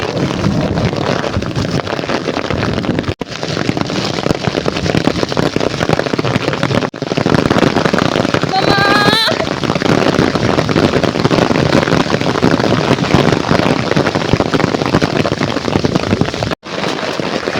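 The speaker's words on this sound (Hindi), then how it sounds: "लिटरली इतने बड़े बड़े ओले।" Large hailstones pelt down in a Himachal storm, a loud, continuous hiss and clatter buffeted by wind noise on the microphone, with a short high metallic rattle midway and a couple of brief dropouts.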